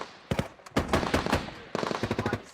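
Bursts of automatic gunfire from British forces in a night engagement, repeated volleys of rapid shots in several loud clusters with brief gaps between them, no talking.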